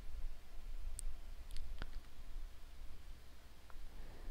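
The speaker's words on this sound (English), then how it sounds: "So we click OK." A computer mouse clicks a few times in quick, light taps, faint and close against a steady hum of background noise, with no talking.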